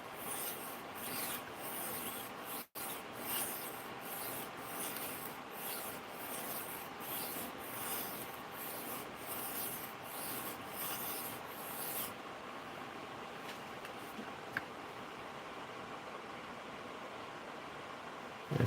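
A handmade knife blade being sharpened on a belt sander with a 1,000 grit belt, giving a steady, close abrasive rasp with a rhythmic pulsing hiss in the first part that smooths out to a plainer grinding rub later.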